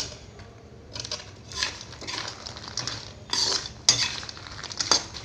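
Khurma being stirred in thick sugar syrup in a pan, with a spoon clinking and scraping against the metal in quick, irregular bursts, close by and with no talking.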